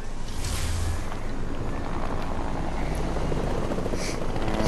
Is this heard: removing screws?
no